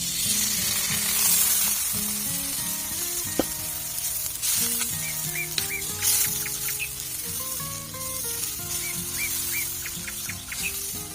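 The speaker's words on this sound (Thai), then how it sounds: "เดี๋ยวเราก็จะใส่น้ำเปล่าไปนิดนึง" Homemade chicken stir-fry sizzling loudly in a pan outdoors in a rice field as a little plain water is added, steady frying crackle with birds chirping in the background.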